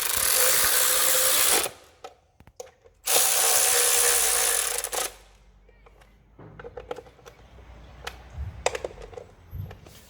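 Tools working on a Mini Cooper during service, with two loud bursts of buzzing power-tool or ratchet noise, then quieter clicks, taps and handling sounds near the engine bay.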